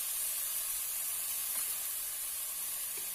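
Banana flower curry with masoor dal, tomato and salt fries in a pan, giving a steady, moderately loud sizzling hiss with no voices.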